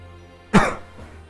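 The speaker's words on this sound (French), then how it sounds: "Excusez-moi de tousser." A single sharp, close cough bursts out once against a faint background hum, then fades quickly.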